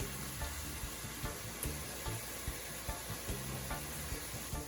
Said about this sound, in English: Now I'm gonna go ahead and add my shrimp into my recipe here to get it to cook a little